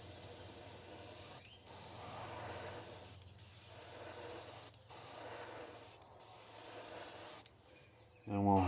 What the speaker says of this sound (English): we're going to spray his back gunmetal gray